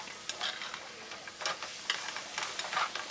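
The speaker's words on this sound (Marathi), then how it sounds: "मसाला टाकलाय आपण तर मस्त त्याला एकजीव करू मसाल्याला" Spice masala stirred and mixed into a sizzling curry, a steady frying hiss broken by soft, irregular scraping strokes of the spoon, close and moderately quiet.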